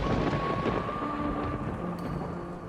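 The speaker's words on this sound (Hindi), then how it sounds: "रह रह कर बिजली कड़क रही थी।" Thunder in a rainy storm at dusk rolls as a steady, low, broad rumble through the whole stretch, with wind and rain noise mixed in and no voices.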